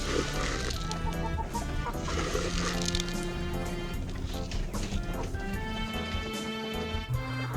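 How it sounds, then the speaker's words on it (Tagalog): Rhode Island White and Rhode Island Red chickens cluck steadily in a crowded farm coop, a busy overlapping chorus of hens with stray rooster calls, loud and continuous throughout with no talk. "yan yung mga Rhode Island White Rhode Island White tsaka Rhode Island Red"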